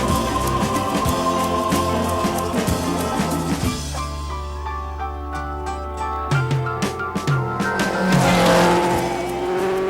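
Vintage racing car driven hard around a circuit, with engine revs climbing and dropping through gear changes and tyres squealing and skidding through the corners, loud and close throughout.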